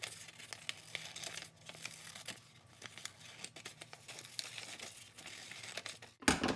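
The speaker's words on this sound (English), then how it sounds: "I'm gonna go ahead and just cut out some basic leaf shapes from our paper" Paper being cut into simple leaf shapes for a children's craft, heard as close, continuous crinkling and snipping with a few louder rustles near the end, no voices.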